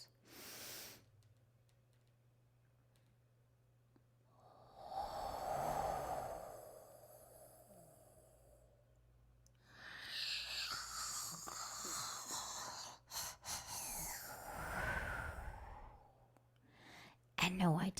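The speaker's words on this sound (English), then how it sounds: "That is practicing a technique called breath of fire" Forceful, rapid breath-of-fire breathing through the nose, coming in two long bursts of rough, airy huffs over a faint steady hum, close and fairly loud against otherwise quiet surroundings.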